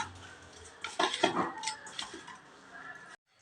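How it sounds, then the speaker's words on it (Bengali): Washed fish pieces are mixed by hand with salt and turmeric powder in a bowl, giving close, wet squelching and scraping sounds with a few light clinks. The sounds come in irregular bursts, strongest in the middle, and then stop abruptly. "এর মধ্যে দিয়ে দিচ্ছি নুন আর হলুদের গুঁড়ো দিয়ে ভালো করে মিশিয়ে নিতে হবে"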